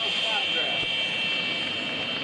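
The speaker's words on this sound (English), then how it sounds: "The B-2, also a Stealth, maneuvering around for their flagship airplane" B-2 Spirit stealth bomber flying at a 2005 joint services open house air show, a steady, loud jet roar with a constant high whine and no break, while an announcer talks over it.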